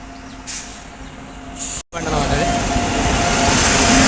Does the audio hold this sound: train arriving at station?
yes